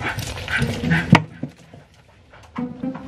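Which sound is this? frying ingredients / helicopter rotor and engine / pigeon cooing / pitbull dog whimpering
pitbull dog whimpering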